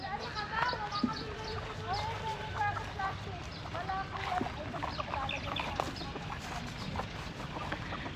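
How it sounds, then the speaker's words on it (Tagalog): Native chickens cluck and call intermittently nearby, with a person talking over the birds and soft outdoor background noise. "Ayan, may mga alagang native na manok."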